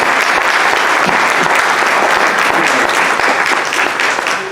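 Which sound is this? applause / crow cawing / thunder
applause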